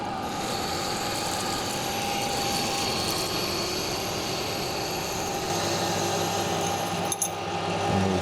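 Metal lathe parting off a machined barbell part, a steady close whine and grinding hiss of cutting that continues throughout, with a deeper tone joining near the end.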